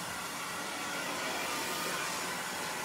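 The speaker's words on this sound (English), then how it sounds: "every time I take that blow dryer off my section" Blow dryer styling long layered hair runs in a steady, broad whooshing rush close by, holding level for the whole stretch with no talk.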